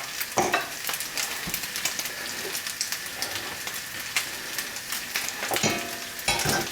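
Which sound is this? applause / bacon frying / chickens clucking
bacon frying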